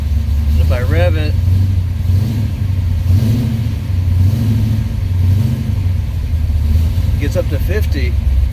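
A cold car engine with a suspected oil pressure fault drones at idle and then briefly rises in pitch as it is revved, loud and close, while someone talks over it.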